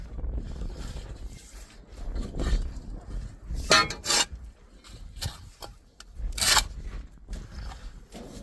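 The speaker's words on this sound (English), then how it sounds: "so I'm gonna have to manually scrape this out, which sucks." Mulch being scraped by hand out of a trailer bed, a near, uneven run of rough rasping and scuffing strokes with a few sharper scrapes, over steady outdoor wind noise.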